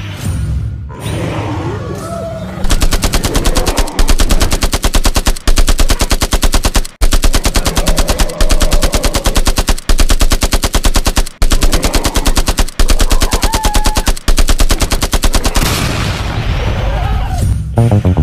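Video game assault rifles firing in long, dense automatic bursts of rapid shots, very loud and nearly continuous, with brief gaps and a voice talking at the start and end.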